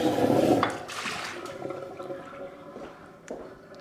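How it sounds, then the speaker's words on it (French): Lukewarm water runs and splashes while a Thermomix bowl is rinsed, a steady close-up gush that is loudest at the start and then eases into a lighter trickle with a few drips, and no voices. "J'ai rincé le bol sans le sécher."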